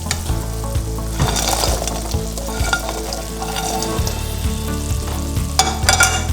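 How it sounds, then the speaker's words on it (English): Fried fish pieces are sautéed and stirred in hot oil in a pan while making fish pickle, with a steady loud sizzle and repeated scraping and clanking of a spoon against the pan. "Now we're gonna add our fried fish."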